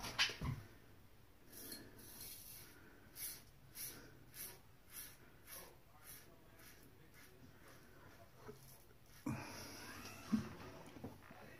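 Razor blade scraping through about four days of stubble on a first pass, a series of short close rasping strokes at a regular rhythm, fairly quiet, with a louder stroke and some movement near the end.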